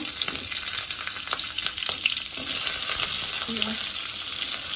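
Ginger, garlic, panch phoron and green chilies fry in hot oil for an Assamese dish, making a dense, steady sizzle close up with light utensil scrapes and no voices.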